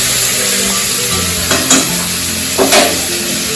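Shrimp and potatoes fry in a pan, a loud close sizzle that holds steady throughout, with two brief bursts of stirring and scraping.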